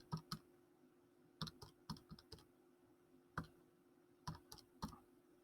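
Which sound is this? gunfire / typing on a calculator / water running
typing on a calculator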